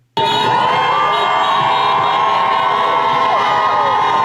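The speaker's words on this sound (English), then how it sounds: "In front of Trump Tower, hundreds of activists cheer as cars honk their horns in support of the cause" Hundreds of activists cheering and whooping outside Trump Tower, a loud, dense, unbroken roar of crowd voices with car horns blaring in support, close by throughout.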